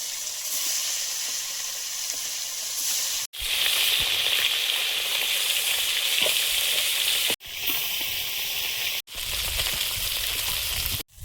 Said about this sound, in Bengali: কই মাছগুলো আগে ভেজে নেব